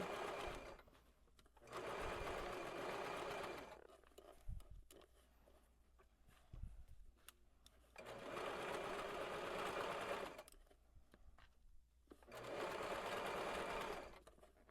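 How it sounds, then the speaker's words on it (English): A domestic sewing machine stitches a half-inch seam down a dress toward the hem, running in three long steady whirring bursts separated by pauses with light handling clicks. "continue sewing 1/2 inch seam allowance all the way down to the hem"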